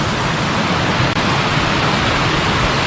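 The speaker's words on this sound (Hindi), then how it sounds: "तो ये हूँ रानी डुडुमा वाटरफॉल" Rani Duduma waterfall in Koraput roars as a dense, unbroken rush of falling water, loud and close, filling the whole stretch with no voices over it.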